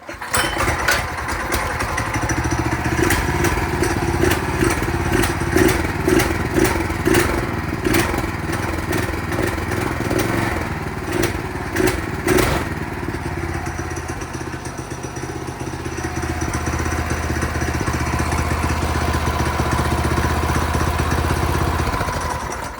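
A Predator 224 small engine runs loudly and close, rattling and sputtering at first before settling into a steady, lumpy idle.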